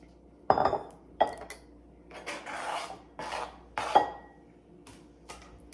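Pre-diced tomatoes are scraped from a container into a bowl in a kitchen, with several close, separate scraping and clinking strokes and short pauses between them, no talking.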